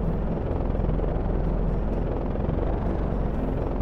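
An airplane in a Minecraft zombie apocalypse hardcore survival world drones steadily with a loud, even, rapidly pulsing engine roar and no talk over it.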